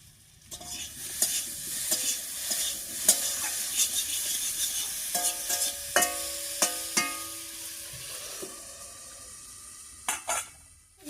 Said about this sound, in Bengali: এবার ঢাকা খুলে একটু নাড়িয়ে দিচ্ছি